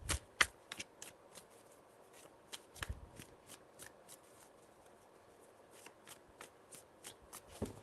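Tarot cards are shuffled by hand, a close, quiet run of quick crisp riffles and soft papery flicks in irregular bursts, with sharper snaps now and then over near silence.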